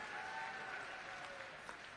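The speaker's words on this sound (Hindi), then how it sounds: "जोरदार ताली बजाओ" A crowd at a political rally in India gives a brief burst of clapping, faint and distant, lasting a couple of seconds.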